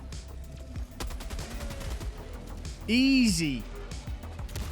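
MG-206 machine gun in the game Helldivers firing in rapid bursts amid battle noise, with a brief rising-falling tonal effect midway and a voice speaking over it.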